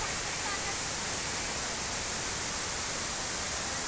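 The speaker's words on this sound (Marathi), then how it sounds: "हे असं खळखळ खळखळ वाहता पाणी दिसतंय तुम्हाला मागे." Water in a gurgling stream flows in a steady, dense rushing hiss that stays loud and even from start to finish, with no voices or breaks.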